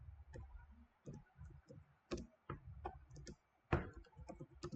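Quiet, irregular keystrokes on a computer keyboard, clicking in short bursts with brief pauses between them and one sharper, louder tap partway through.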